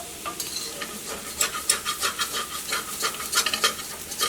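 Masala powders sauté in oil for an egg roast, a soft sizzle under quick, repeated scraping of a wooden spoon against the pan.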